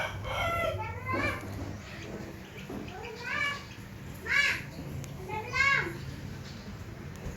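Young chicks peep and cheep in short high chirps scattered across the stretch, with children's voices and other birds nearby.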